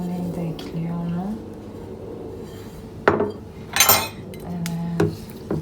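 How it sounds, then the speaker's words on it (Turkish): Lentil rice with garlic and dried mint being stirred in a pot, scattered metal spoon clinks and scrapes against the pan, with a voice speaking over the quieter stretches. "Şimdi iyice karıştıracağım."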